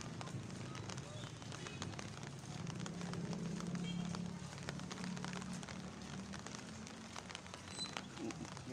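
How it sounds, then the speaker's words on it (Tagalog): Rain falls steadily outdoors at a town market in the Philippines, a dense, even patter with crackling splashes that runs continuously throughout at moderate loudness, alongside a low background hum. "Sa Tobic M, umuulan no."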